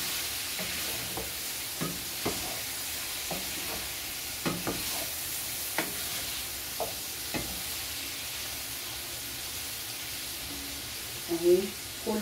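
Peppers and sweet peppers fry in a pan beside kofta with a steady, moderate sizzle, while a spoon scrapes and knocks at irregular intervals and a voice speaks briefly.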